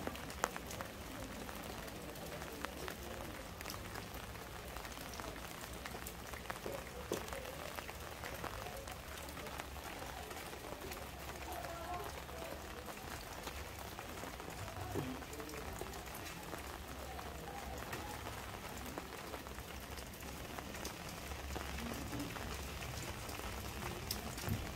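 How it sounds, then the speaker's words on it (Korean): Steady rain falls on the pond at Gimcheon Yeonhwaji at night, a continuous soft patter of drops on water that stays even and faint throughout, with no voices. "빗방울이 떨어지는데 물결이 살짝 일렁이죠."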